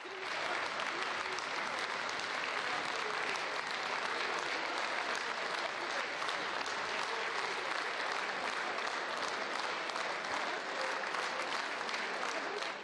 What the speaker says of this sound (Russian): Провожают его опять овациями